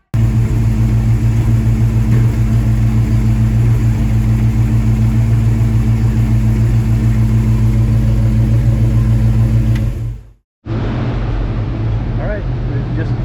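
A 1967 Ford Mustang engine runs hard on a dyno, a loud continuous rumbling drone that cuts out abruptly near the end before resuming.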